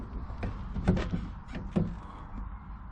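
The rear doors of a big van swing and latch, giving two dull knocking thuds about a second apart over low background rumble, with no talking.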